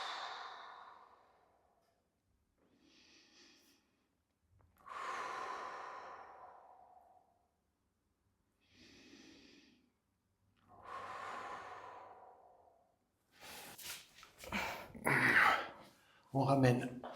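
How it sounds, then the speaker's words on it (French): During a stretching and mobility session for cyclists, a person takes slow, deep breaths, with long audible exhales separated by quiet pauses, ending in louder rustling and breathy noises up close. "3 grandes respirations."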